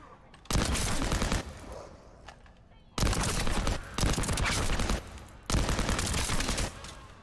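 Bursts of rapid automatic gunfire from a weapon in The First Descendant video game, three loud sustained volleys separated by short pauses, with faint speech underneath.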